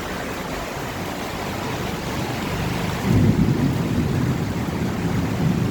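Steady, dense rain pours down outdoors, a constant hiss that swells slightly as a low, rolling thunder rumble builds and lingers through the second half.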